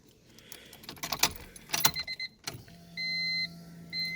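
A Honda's keys jangle and rattle in the ignition as the key is turned forward, followed by a thunk and steady electronic chimes from the dashboard, close and clear.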